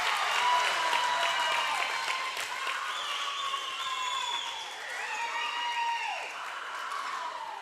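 High school volleyball crowd in a gym applauding steadily, a dense, fairly close wash of clapping with faint cheering that swells and eases over several seconds, with no talk over it.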